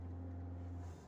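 A car pulls away as the accelerator is pressed during a clutch demonstration, its engine giving a steady, close droning hum that eases off slightly at the end.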